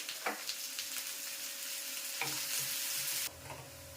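Onions frying until deep red in a pan for chicken, giving a loud, steady close sizzle with repeated scraping stirs and a brief knock, ending abruptly.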